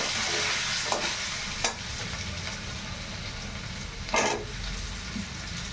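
Pieces of pointed gourd (potol) hit hot oil already seasoned with panch phoron, ginger-chili paste and a dried red chili for a fish curry. A steady, hissing sizzle fills the clip, broken by a couple of stirring scrapes.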